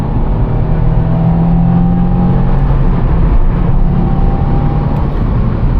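A Subaru WRX accelerating hard, its engine a loud, steady drone from inside the car with rising tones and small breaks at the gear shifts, no voices.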